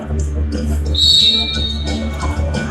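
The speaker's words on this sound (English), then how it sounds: "Referees blowing their whistles" Referees' whistles shrill above a noisy crowd at a junior lacrosse game in Ontario, with one long sustained blast standing out against the steady arena roar.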